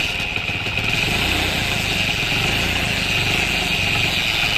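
A motorcycle engine with a bad, faulty sound after a rebuild runs steadily close by, a loud continuous idle with a constant throbbing drone and no talking.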